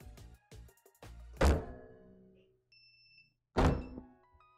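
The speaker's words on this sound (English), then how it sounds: "when I bring the platen down, everything is covered and pressed with even pressure" A heat press platen comes down on a sweatshirt with two heavy, close thunks a couple of seconds apart, preceded by lighter clicks and handling knocks, with a faint tonal whine between them.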